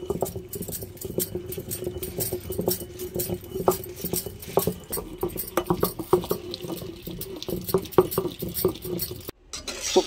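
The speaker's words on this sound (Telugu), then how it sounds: "కల్లుప్పు వేసుకొని రుబ్బుకోవాలి." A stone mortar grinds soaked tamarind with rock salt in a village-style coconut chutney preparation, producing steady, rapid knocking and scraping strokes up close that run continuously for several seconds before a brief pause.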